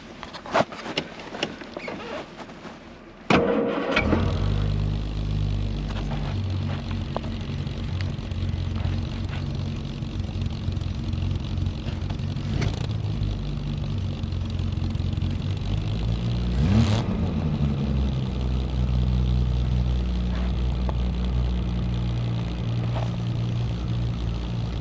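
A 1972 Triumph GT6 fitted with a TR6 engine cranks with faint clicks and then fires up at about four seconds, settling into a loud, steady, throbbing idle with a brief rev partway through.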